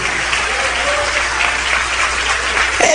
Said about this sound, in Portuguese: isso aplaude mais ainda